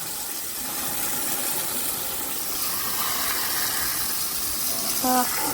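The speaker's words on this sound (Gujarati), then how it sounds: "મોટર ચાલુ કરી દીધી હે ને આપણે આ રીતના ડાયરેક્ટ મોટરથી ધોઈ નાખી" Water from a motor pump hoses down a buffalo in a village yard, a steady hissing spray that continues without a break, with a faint brief tonal sound near the end.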